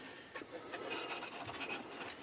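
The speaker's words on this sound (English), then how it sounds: "A couple more times maybe around with the sanding" Hand sanding on a boat model, quiet, close rasping strokes that repeat in a quick, uneven back-and-forth rhythm with no talking.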